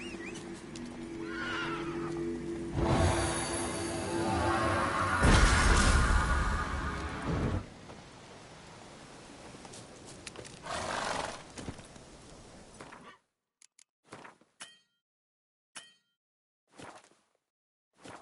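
Roach the horse from the video game The Witcher 3 whinnying loudly and nearby, with hoof clip-clops and a snorting neigh, followed by sparse short thuds separated by silence.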